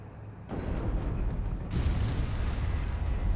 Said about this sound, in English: let's just do a huge explosion and see if she gets knocked off